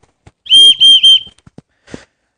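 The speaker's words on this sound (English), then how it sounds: "it's also got a little whistle here" Three short, shrill blasts from a small whistle on a Lowepro photo backpack in quick succession, close and loud, followed by a few faint clicks and a brief rustle.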